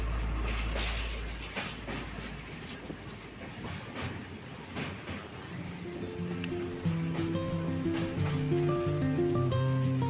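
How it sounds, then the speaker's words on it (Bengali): A train runs through forest, its carriages rumbling with clickety-clack along the rails and steady mechanical hiss, turning into rising rhythmic tonal squeals toward the end; no talk, moderately loud throughout. "এই জঙ্গলের মধ্যে দিয়ে ট্রেন ছুটে চলেছে"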